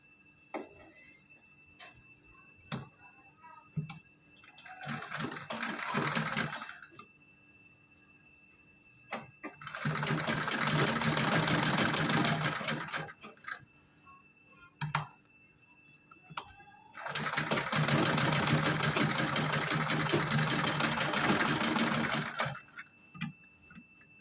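Sewing machine stitching a small Kanha ji (Krishna idol) dress, running in three bursts that grow longer, a short whir followed by two sustained runs of several seconds, close and steady, with quiet handling between.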